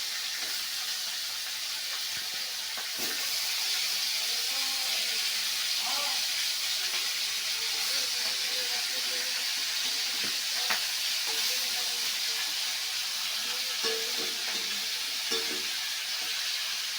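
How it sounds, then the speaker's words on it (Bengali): A fish head fries in hot oil in a kadai, making a steady, moderately quiet hiss and crackle that swells slightly after the first few seconds and holds evenly, with faint occasional clinks. "মাথাটা ভালো করে ভেজে নেব লাল লাল করে।"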